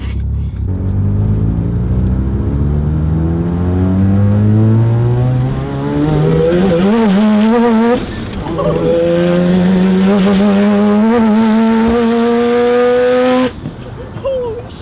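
Turbocharged rotary car, an RX-7, revving hard and accelerating through several rising gear pulls on a test drive, loud and close, with a brief drop between shifts and a cut near the end.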